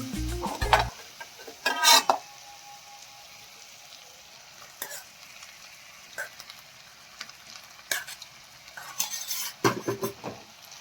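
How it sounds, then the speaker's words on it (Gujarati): A metal spoon stirs and scrapes rice around a hot pan for Schezwan fried rice, with clinks against the pan and a faint sizzle between louder knocks. "અને બધી વસ્તુને મિક્સ કરી લઈએ"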